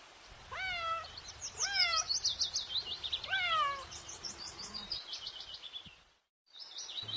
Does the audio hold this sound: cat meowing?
yes